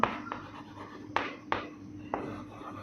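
Pen on paper as an answer is written out by hand, a faint scratching broken by several sharp taps and strokes over a quiet background.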